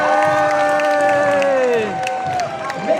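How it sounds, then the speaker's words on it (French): A convention crowd at a cosplay prize ceremony cheers and applauds a Star Wars cosplayer in a steady, close wash of noise, with a sustained tone sliding downward through it and fading near the end. "Applaudissez-le, applaudissez-le."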